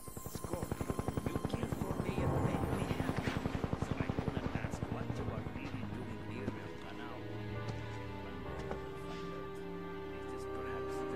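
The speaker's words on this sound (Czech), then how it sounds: "odletíme vrtulníkem vlastně." A helicopter in the video game Just Cause 2 thumps steadily with a fast, close rotor chop that stays loud throughout, while someone talks over it.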